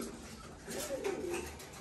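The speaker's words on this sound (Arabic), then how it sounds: "هذول ضحاك اثنين تايلندي" A pair of Thai laughing doves coo softly inside a pigeon loft, a few low, bubbling calls rising in the middle of the stretch over faint background noise.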